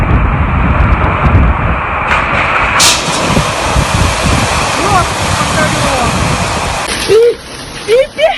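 An airliner taking off at a flooded airport, a loud, continuous roaring rumble over rushing water, with a voice talking over the end.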